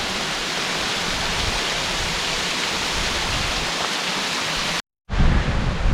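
A waterfall in Acadia National Park gives a steady, loud, broadband rush of falling water, unbroken for several seconds before a brief cut, then resumes at the same intensity.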